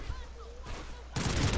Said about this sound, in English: Oh, I got sniped by a guy in the tower.